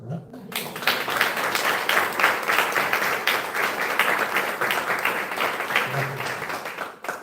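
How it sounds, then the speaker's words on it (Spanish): An audience at an Ibero-American current-affairs panel event in Mexico breaks into sustained applause, many hands clapping in a full, steady burst for several seconds before it trails off. "quiero pedir un aplauso"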